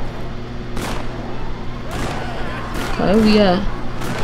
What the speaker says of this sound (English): Too much gunshots going on out here.